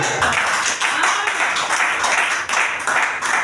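A church congregation claps together to acclaim the Lord, steady rhythmic clapping filling the room at even volume, with a few voices faintly mixed beneath.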